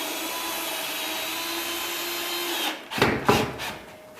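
A power drill drives screws through drywall into a stud during a garage ceiling water-damage patch. A steady motor whine runs for several seconds, then ends in a few loud, choppy bursts as the screw bites in.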